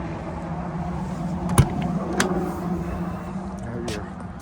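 A 2021 Newmar Kountry Star 3709 motorhome rolls down the road with a steady low road and engine rumble, a few sharp clicks and knocks rising over the drone.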